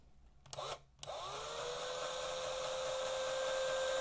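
A couple of brief bursts, then a power drill spins up into a steady high whine as it bores through a rivet on a Hot Wheels die-cast toy car, close and continuous.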